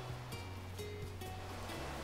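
Gentle ocean surf washes steadily in the background, a soft continuous rush of waves with quiet swells, accompanied by faint calm tones during a relaxing home yoga session.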